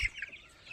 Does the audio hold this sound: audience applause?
no